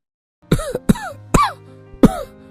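A man drenched from rain coughs: four harsh coughs, close and loud, spaced unevenly over a couple of seconds with quiet gaps between them.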